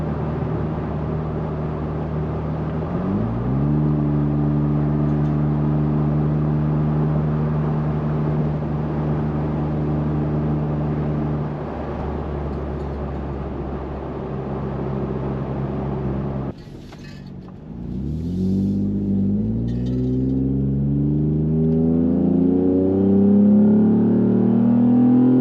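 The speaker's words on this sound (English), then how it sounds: "It is so droney inside of the Jeep. I'm going about 60 miles an hour, but I'm seeing 8th gear." Steady low drone inside a Jeep Gladiator fitted with a Red Rock dual exhaust, cruising at about 60 mph in 8th gear; the exhaust hum holds a constant pitch, dips briefly, then climbs again as the engine pulls, close and loud with no talk.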